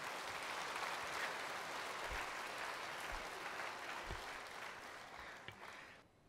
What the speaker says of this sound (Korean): 할아버지가 보세요, 박수 쳐주고 있어요